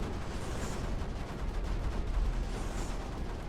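Cannons and mortars firing in the video game Creeper World 4 make a dense, continuous barrage of low booms and rattling blasts, steady and loud throughout with no pauses.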